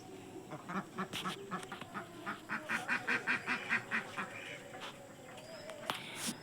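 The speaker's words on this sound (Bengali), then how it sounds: "দেখো ঘরের ভিতরে হাঁস কিরকম ডাকছে" A chorus of ducks quacking in quick rhythmic bursts inside a house full of ducks, fairly faint and muffled as if heard through walls.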